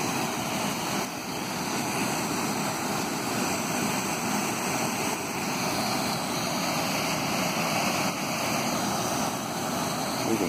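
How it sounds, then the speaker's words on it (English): Water rushing and washing back in along a shore, a steady broad roar of surf that stays loud and continuous throughout with no voices. "Water's coming back in."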